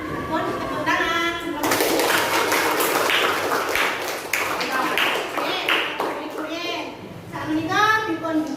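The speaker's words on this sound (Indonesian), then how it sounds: "Pun tepuk tangan." Classroom clapping from teachers and pupils at a school lesson in Indonesia, a dense burst of hand claps lasting several seconds, with children's voices talking before and after.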